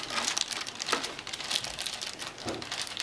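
Soft plastic bag crinkling and rustling as it is removed from a Traxxas Summit VXL RC truck body, close by, in scattered bursts of crackle with no talking.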